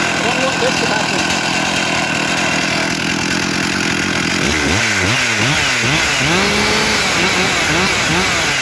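A chainsaw held down on a table runs loud and close with a steady buzzing drone, its pitch swooping up and down as the throttle is blipped partway through.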